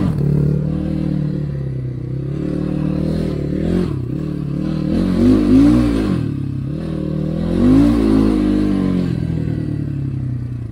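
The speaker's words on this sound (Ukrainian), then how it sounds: "Ну, стіпуха тут дуже шумна." Kovi Max 300 enduro motorcycle with a loud exhaust, revved repeatedly: a close, deep engine drone rising and falling in pitch, with two strong throttle blips swelling and dropping back.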